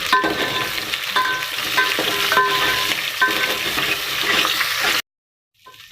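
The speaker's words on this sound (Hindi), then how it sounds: "अब इनको हम थोड़ी देर भून देंगे।" Onion, green chili, cloves and bay leaf sautéing in a pan for vegetable pulao, a steady loud sizzle with scraping stirs throughout, then cutting off abruptly near the end.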